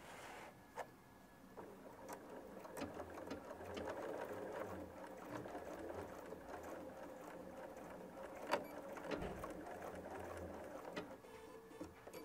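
A Bernina 790 Pro sewing machine stitching steadily, its quiet motor whirring with a soft rapid needle rhythm throughout, plus a few faint clicks.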